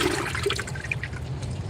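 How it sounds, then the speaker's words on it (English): Rainwater sloshes and pours as it is scooped out of a big garden pot and moved into another pot outdoors, a steady close-up watery splashing without pauses. "I'm gonna have to use these to transfer the water."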